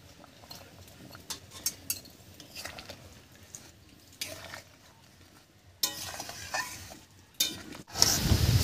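Ground fried spice paste stirred into a simmering fish curry with potatoes, a spoon scraping and clinking against the pan in bursts over a low sizzle, with a louder clatter near the end.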